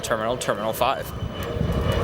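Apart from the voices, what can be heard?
Royal Jordanian airliner taxiing at O'Hare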